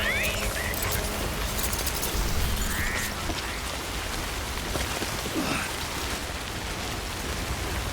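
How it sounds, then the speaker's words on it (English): Steady rain falls in the video game Death Stranding, a dense broadband hiss of drops on surfaces lasting throughout, with faint voices and game sounds underneath. "Let's get out of the rain first before we do anything else."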